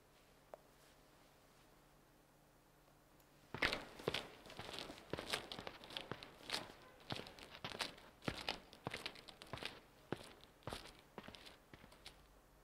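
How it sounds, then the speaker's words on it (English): After a few quiet seconds, footsteps crunch and crinkle in an uneven rhythm, close and fairly sharp, continuing steadily to the end. "Footsteps."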